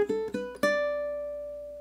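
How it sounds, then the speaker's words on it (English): Ukulele plucks a short pickup measure of a Venezuelan waltz: four quick, close notes in an uneven rhythm, the last held and ringing out slowly to near silence, with no voices. "I'm going to go ahead and play again just the little pickup measure"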